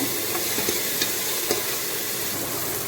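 Tomatoes fry and sizzle in a pan while being stirred for tomato rice. A steady hiss runs throughout, with a few soft scraping clicks of the spoon and no talking.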